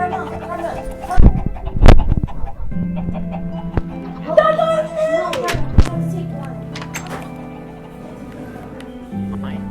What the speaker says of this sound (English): get back in here, chickens